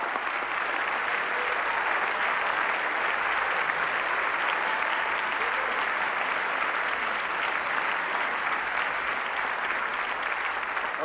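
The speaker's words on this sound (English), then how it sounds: "Please give them a big round of applause." Sustained audience applause at a formal press awards dinner fills the room, a dense, steady wash of clapping from a large crowd, even in loudness from start to finish with no voices over it.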